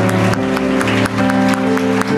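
A church congregation applauds to welcome the pastor's wife. The steady, dense clapping fills the hall over sustained background music tones and keeps going throughout.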